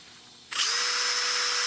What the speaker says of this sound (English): You don't want to chuck it up in that drill so tight that it puts chuck marks on your screw threads